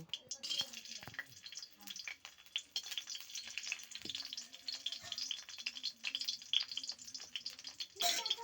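Bori lentil dumplings fry in oil in a home kitchen, making a soft, steady sizzle broken by scattered stirring clicks and scrapes, with a faint voice in the background.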